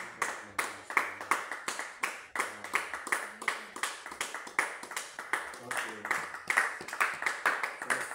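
A church congregation claps in steady, rhythmic unison during worship, the sharp beats continuing throughout at a lively, even tempo, with singing voices faintly underneath.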